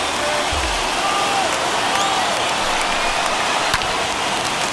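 Stadium crowd of over 39,000 on their feet at Game 5 of the 2010 World Series, Giants at Rangers, raising a loud, unbroken roar of cheering that holds steady for the whole stretch.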